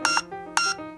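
Two short bright electronic beeps from a YJ pocket cube timer, evenly spaced, close and loud, each followed by a lower lingering tone.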